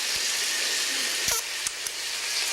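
Sausage frying in a pan, a steady bright sizzle of spitting fat throughout with a few soft clinks and stirring taps, no voices.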